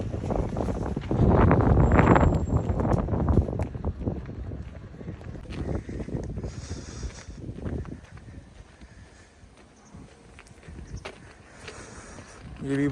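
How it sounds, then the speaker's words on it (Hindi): Strong winter wind gusts buffet the microphone outdoors on a snowy university campus in China, with loud rumbling bursts early on easing into a softer, uneven rush, and faint steps and a voice at times. "बहुत तेज़ हवा चल रही है इस वक्त।"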